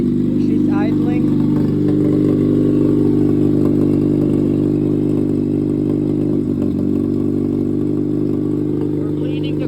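A Nissan Sentra engine idles under the hood, a loud, steady low drone with a constant hum and light mechanical clatter, while people talk nearby.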